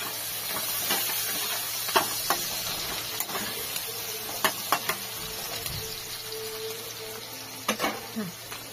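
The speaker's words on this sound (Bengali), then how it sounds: "এবারে একটু ভাজা হবে পেঁয়াজটা," A medium onion, chopped and added to a pan after green chillies, fries with a soft, low sizzle, broken by scattered light clicks and scrapes of stirring.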